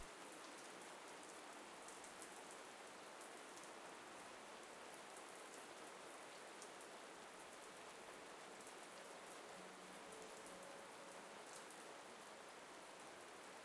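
Steady, dense rain falls on surfaces in the VRChat video game, a constant even hiss with no voices over it.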